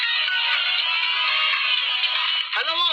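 A phone ringtone rings loud and close as a steady, continuous melodic tone for most of the stretch, then cuts off as a voice begins at the end.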